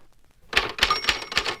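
A 1960s manual typewriter strikes four loud, crisp keystrokes in an even touch-typing rhythm after a brief quiet moment. The mechanical clacks are close and stand alone.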